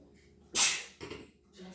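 A single sharp sneeze bursts out close by in a quiet room during a Bible reading, followed by a softer breathy sound and brief murmured speech.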